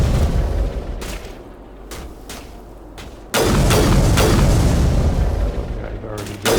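A sniper rifle firing in Mass Effect Legendary Edition, several sharp, heavy shots spaced about a second apart, followed by a louder sustained booming barrage, close and forceful.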